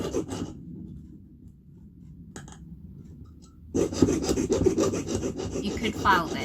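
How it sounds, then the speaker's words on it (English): Close, rough rasping of a jeweler's saw cutting silver, steady back-and-forth strokes after a quiet pause, with a brief tap midway. "So I'm just sawing away the excess silver."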